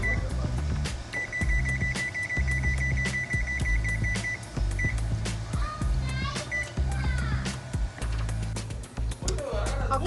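An oven control panel being set to preheat, giving a run of short electronic beeps, one long steady tone and a few chirps, while a person talks over it in a kitchen.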